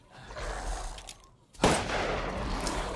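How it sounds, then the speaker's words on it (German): Magnum revolver fire in Resident Evil Village, a single loud, heavy shot cracking out after a quieter tense stretch, followed by sustained rumbling noise. "Schieß einmal. Schieß zweimal und sicher nicht öfters."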